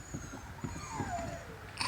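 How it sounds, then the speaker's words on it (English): A dog whining and whimpering in short repeated bursts nearby, heard during a garden storage bin shed assembly with plastic panels being slid into place, over a steady background hiss. "Ignore the whining dog."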